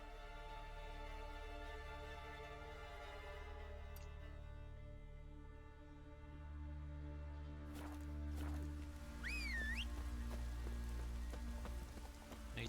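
Rain falls steadily in Skellige in The Witcher 3, a soft continuous patter under a low game music drone, with a few brief sharp knocks and a sliding tone partway through.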